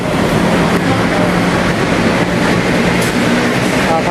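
Steady loud rumble of a passing elevated metro train at a station near Central Ladprao, Bangkok, continuous rail noise with faint clatter throughout, close by.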